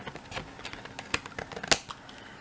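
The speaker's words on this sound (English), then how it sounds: "Let's get these scissors." Crafting scissors picked up from a cardmaking desk, giving a few close, crisp metallic clicks and handling taps, with one sharp louder snap near the end.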